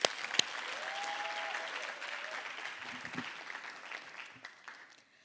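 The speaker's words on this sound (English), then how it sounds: "let's give our entertainment another round of applause" Audience applause at a poetry event fills the hall, a steady dense wash of clapping that gradually thins and fades toward the end, with no voices over it.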